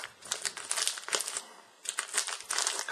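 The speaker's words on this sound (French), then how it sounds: "on va ouvrir le paquet de bacon qui traîne depuis 3 mois et demi dans mon armoire" Crinkling plastic packaging of bacon being handled and pulled open, with bursts of close crackling rustle, a short pause, then more crumpling near the end; no talking.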